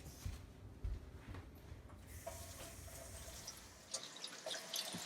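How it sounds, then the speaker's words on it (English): Hands being washed under a running kitchen tap while preparing taco bites: a soft, steady stream of water splashing into a sink, with brief drips and quieter gaps early on. "First step is to wash your hands."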